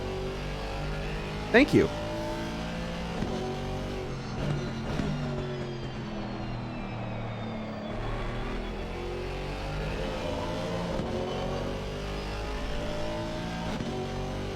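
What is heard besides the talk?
Mercedes-AMG race car engine revving on track at Barcelona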